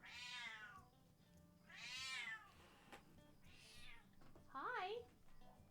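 Pet cat meowing indoors, several drawn-out mewing calls followed by a shorter, rising trill, close to the microphone over faint room noise.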